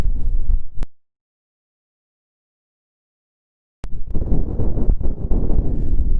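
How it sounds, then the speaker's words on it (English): Gusty wind on a wet, high landscape buffets the microphone in low, rumbling bursts, broken by a stretch of near silence in the middle. "that's why it's more windy and wet up here"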